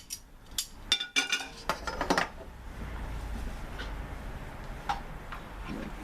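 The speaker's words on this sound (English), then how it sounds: "Fit the lid on." An Instant Pot lid is fitted on, making a burst of sharp metallic clicks and clinks over the first two seconds, then a few faint ticks against low kitchen background noise.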